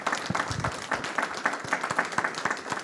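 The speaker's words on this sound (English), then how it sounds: "So if we could have a round of applause for our candidates." Audience at a Jackson open forum applauding the candidates, a moderate crowd clapping steadily with individual claps audible, close and even throughout.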